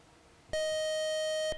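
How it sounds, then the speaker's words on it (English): A quiz show buzzer ends the round with a single loud, harsh electronic tone lasting about a second. It cuts in abruptly and stops sharply over a quiet room. "And that buzzer means our round is over."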